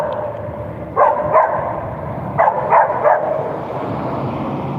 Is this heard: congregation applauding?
no